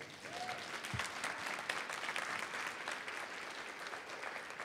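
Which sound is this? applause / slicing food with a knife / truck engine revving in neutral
applause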